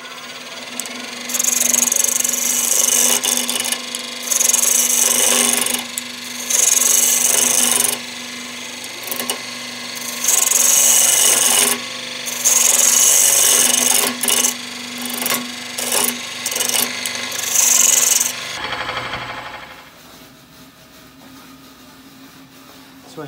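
A woodturning tool cuts wood on a lathe in repeated bursts of bright, scraping shaves over a steady motor hum, each pass lasting a second or two with short pauses between, before the cutting stops and the hum winds down.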